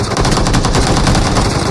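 A snow blaster gun firing in a battle royale video game, a loud, close, rapid continuous burst of shots.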